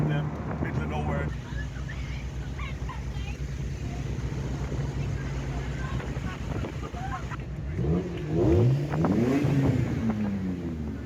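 A Ferrari 348 and a Ferrari 328 drive fast along a rural back road, with a steady, loud engine drone and wind rush, rising revs near the end, as a voice talks over it.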